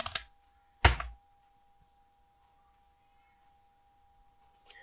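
A stock name is typed on a computer keyboard as a couple of brief, close key clicks in quick succession, followed by near silence.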